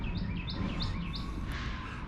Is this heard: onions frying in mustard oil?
no